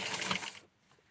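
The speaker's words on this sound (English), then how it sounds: "So I'm going to sew really close to the edge." Sewing machine stitching close to the edge of doll-clothing fabric, a quick rapid run of mechanical needle chatter that stops abruptly, leaving near silence.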